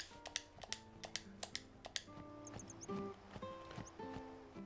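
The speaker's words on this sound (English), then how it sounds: "To me clicking buttons." Game controller buttons click in quick, light taps, first in a steady run of crisp clicks and then more scattered, all faint and close, with soft game music tones underneath.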